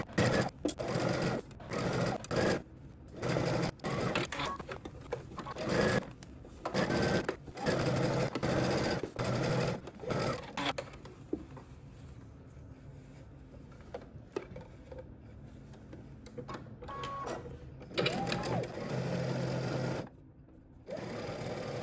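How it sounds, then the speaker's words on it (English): A sewing machine stitches the front seam of a summer dress in a run of close, steady bursts, with short pauses between passes; no voices. "first we need to stitch the front, and then we're going to go ahead and understitch"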